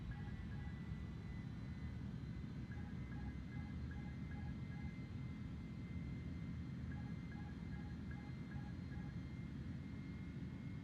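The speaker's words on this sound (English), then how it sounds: "Okay, you can hear the plane now." An airliner's engines drone in Microsoft Flight Simulator 2020 during a climb after takeoff from Toronto, a low continuous rumble with faint intermittent beeping tones over it.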